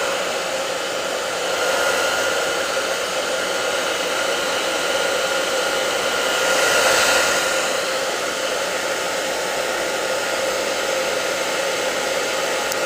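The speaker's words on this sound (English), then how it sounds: "I'm gonna use a hairdryer, get this dry here." A hair dryer runs continuously over a wet watercolor painting, a loud, steady, close whoosh with a slight swell in the middle and no talking.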